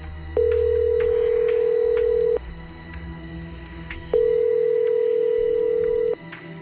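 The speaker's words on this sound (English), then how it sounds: "The phone rings and rings." A steady electronic ringback tone sounds twice, each long buzz lasting about two seconds with a pause between, over a faint hum.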